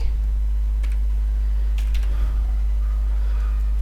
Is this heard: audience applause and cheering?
no